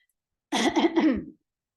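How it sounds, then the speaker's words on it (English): A short burst of a few harsh coughs, close to the microphone and loud, lasting under a second, with silence before and after. "I didn't mean to cough into the mic like that."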